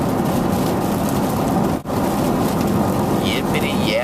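Heavy rain pours in a dense, constant roar close by, with a brief dropout midway and faint voices or squeaks toward the end.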